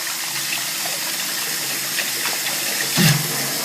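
Water rushes steadily from a tap during makeup removal, with a brief louder splash near the end and no talking over it.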